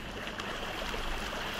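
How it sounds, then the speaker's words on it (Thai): Steady rushing water from a river under a wooden bridge in the video game Mini World, a continuous, even hiss with no breaks and no voices. "น้ำไหลแรงเลย"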